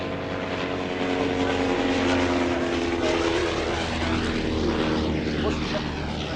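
A vintage SE5 biplane engine runs loud and continuous at close range, a steady propeller drone with a throbbing tone as the aircraft prepares to taxi.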